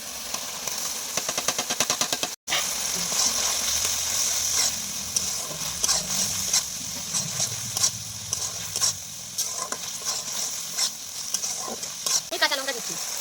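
Paneer fries and sizzles in a hot pan with busy, crackling spatter and frequent scraping stirs. A brief dropout comes early, and a low background hum runs beneath the close cooking noise.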